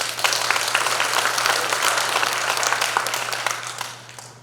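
Audience applause at a regular Democratic Party delegates' convention for the Jungnang district, a continuous wash of clapping from a crowd that holds steady and then tapers off.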